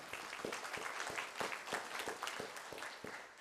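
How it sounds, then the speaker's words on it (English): A small crowd claps, steady overlapping applause at moderate distance, fairly quiet and even throughout. "we'll give him a round of applause anyway"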